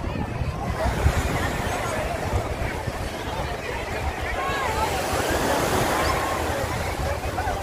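Sea waves wash steadily onto a crowded Alexandria beach in the Asafra area, a broad rushing surf under wind noise and a distant babble of many voices.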